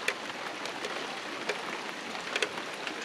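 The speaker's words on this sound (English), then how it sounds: "Come on, rain." Light rain falling outdoors beside a Ford 1600 engine being worked on, a soft steady hiss with scattered faint drop ticks, quiet and continuous.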